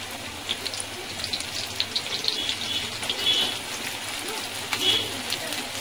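Onions hitting hot oil with cumin for a Bangladeshi hilsa fish-head muri ghonto, a steady broadband hiss with scattered crackles and pops close by, no voice over it.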